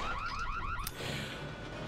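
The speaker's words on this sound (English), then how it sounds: "there goes that car alarm again" A car alarm blares in Super Mario Galaxy, a rapid warbling electronic whoop repeating several times at moderate volume, then cut off by a short bright blip and a low game ambience.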